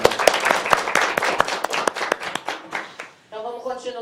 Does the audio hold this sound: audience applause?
yes